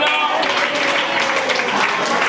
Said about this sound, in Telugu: దేవునికి చప్పట్లు కొట్టండి